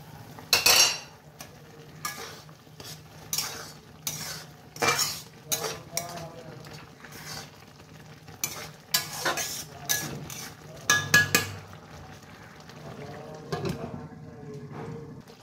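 A spoon stirs oats into a pan while oats upma with capsicum cooks: repeated close scraping and clinking strokes of utensil on metal come in irregular bursts over a low background hum.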